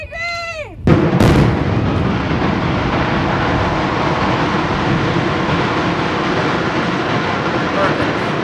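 A grandstand implosion at Daytona International Speedway, the Superstretch stands brought down with a sharp blast followed by a long, loud, steady rumble of collapsing structure; a voice is heard briefly before the detonation.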